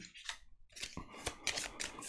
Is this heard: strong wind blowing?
no